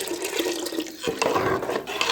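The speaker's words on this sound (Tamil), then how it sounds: "நம்ம இந்த செலவு பாத்திரத்தை அலசி தண்ணி ஊற்றிக்கலாம்." Water splashes and gurgles as it is poured into a rinsed cooking pot for fish curry, close up, with a brief break midway before the flow resumes.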